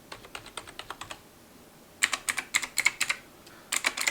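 Typing on a cheap membrane gaming keyboard in bursts of soft, muted keystrokes, a quicker run after a brief pause, close and fairly quiet with no voices.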